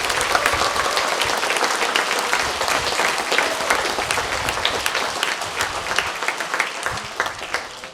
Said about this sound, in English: So let's give our softball team one more big round of applause.